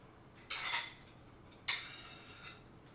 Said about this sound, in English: all we do is just stir this up a little bit earlier